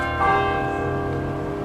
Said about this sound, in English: Why did the bells just ring then?